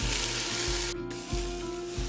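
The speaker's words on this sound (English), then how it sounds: "That sizzle, sizzle." Loud, steady sizzling of chicken browning in hot oil in a pan close up, with a brief clatter partway through as the pan is moved.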